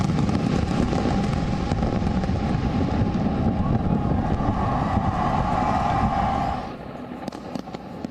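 Dense, continuous rumble of New Year 2023 fireworks crackling and booming at a distance in London, a heavy wash of sound that fades out near the end.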